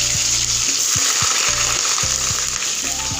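Finely sliced onions hit hot mustard oil for moong dal khichdi and sizzle loudly and steadily up close, with a few soft stirring knocks in the pan.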